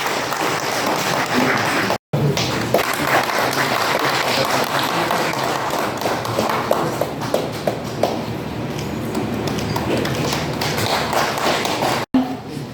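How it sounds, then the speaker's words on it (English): Sustained applause from an audience at a community gathering, a dense, steady wash of clapping held for over ten seconds with brief cutoffs near the start and end. "Let's give them a big round of applause."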